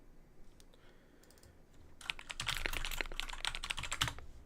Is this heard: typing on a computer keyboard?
yes